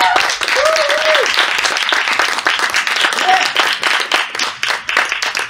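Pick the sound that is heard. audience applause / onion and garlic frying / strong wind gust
audience applause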